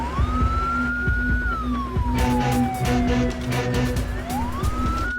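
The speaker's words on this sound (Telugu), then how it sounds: "తప్పండి, తప్పండి. అంబులెన్స్ దారి ఉండి పదండి." Wailing ambulance siren on a road, sweeping up and down in long rising and falling tones, loud and close, with steady traffic rumble and a low hum underneath; no talking.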